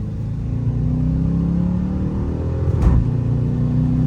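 A car doing a burnout with both wheels spinning gives a loud, steady low engine roar heard from inside the cabin, a continuous heavy rumble that swells briefly near the end.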